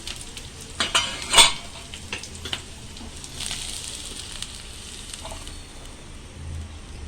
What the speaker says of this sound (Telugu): ఓకే, ఇవి వేగిపోయినాయి ఆనియన్.